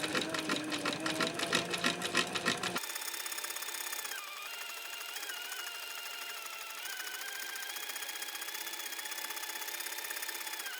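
A sewing machine stitching a leather belt, a fast pulsing chatter for the first few seconds, then shifting to a smoother, steady mechanical hum that carries on to the end.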